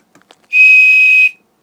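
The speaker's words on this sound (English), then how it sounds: "it's just me showing you my bird whistle" A single steady, piercing tone from a blown bird whistle, close and loud, lasting under a second after a couple of faint small clicks, with no voices.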